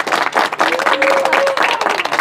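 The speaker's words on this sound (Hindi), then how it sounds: "पहले एक बार जोरदार तालियों से स्वागत" An audience at a Hindi comic poetry gathering bursts into brisk, loud applause, with a brief tonal sound rising above the clapping.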